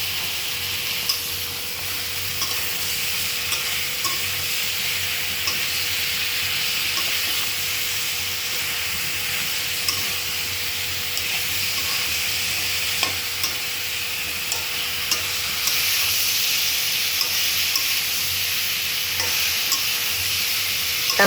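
Onion paste and ginger garlic paste frying with spices in a pan for a fish curry, a steady close sizzle with faint stirring scrapes throughout, alone with no talk.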